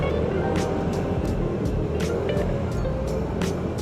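A fishing boat driven by an RTS R165 second-generation electric trolling motor speeds up sharply, a steady loud rush of motor and water noise with small ticking sounds over it.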